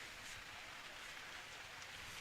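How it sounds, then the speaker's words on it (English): Steady rain falls during an outdoor high school baseball game, a faint, even hiss with soft patter that continues unchanged with no voices. "Rain not stopping, picking up a little bit, but not too much of a difference right now."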